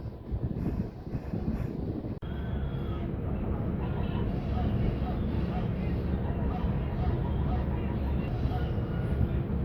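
A general coach on a moving express train rumbles steadily with constant low rolling noise and wind buffeting, loud and continuous throughout, with a brief dip early on and people talking faintly in the background.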